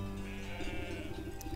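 Sheep bleating in the video game Wytchwood, a steady run of bleats over a continuous game soundscape, fairly loud and close with no talk.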